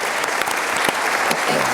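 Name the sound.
applause for a presenting company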